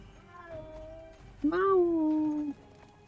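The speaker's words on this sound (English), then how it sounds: "That is why we don't have a cat, that noise." A cat's meow in the video game Conan Exiles: one drawn-out, loud, falling meow lasting about a second, preceded by a softer, thinner mewing cry, over quiet game background.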